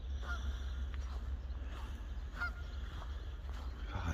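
Geese honk at a pond, faint, scattered and distant calls over steady low outdoor rumble.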